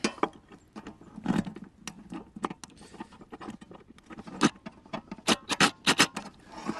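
A ratcheting gear wrench turns a bolt while wood duck boxes are installed, giving irregular close clicks and clacks in uneven bursts, some sharper and louder, with quiet gaps between.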